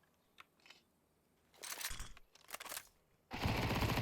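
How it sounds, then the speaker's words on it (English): Gunfire in a Counter-Strike esports match on de_Inferno: scattered sharp shots and then a sustained loud burst of automatic fire, with no talk over it. "And Kalen makes the open frag for the round"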